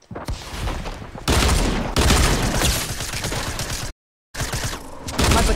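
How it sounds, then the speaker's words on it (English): Rapid bursts of SMG fire in a video game, loud and dense, running in several long stretches broken by a brief silent gap near the end. "I missed all the SMG shots."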